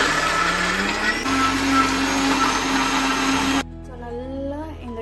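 A mixer grinder grinds peeled peanuts into peanut butter with a loud, steady, high-pitched whir. It runs continuously for about three and a half seconds, then cuts off, leaving a quiet background with a faint voice.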